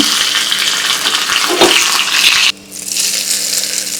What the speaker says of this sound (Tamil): இப்போ எண்ணெய் ஆதிச்சு கடுகு சேர்த்துக்கலாம் கூடவே கொஞ்சமாக கருவேப்பிலை சேர்த்துக்கலாம்